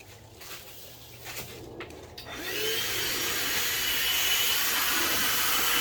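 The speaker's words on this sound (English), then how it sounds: "I am going to turn this on and turn my vacuum on, so it might get a little bit loud" A surface prep sander and its connected vacuum start with a loud, steady roar after a couple of seconds of quieter rustling, then hold at a constant high level.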